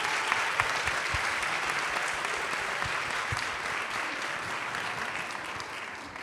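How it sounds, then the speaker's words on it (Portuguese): Sustained audience applause at a women's leadership event in Brazil, a dense, even wash of many hands clapping that stays loud throughout with no one speaking. "Uma salva de palmas para eles que estão aqui."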